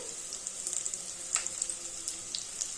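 Garlic fries in a pan of oil with a steady, close hiss and sizzle, marked by a few sharper crackling spurts along the way.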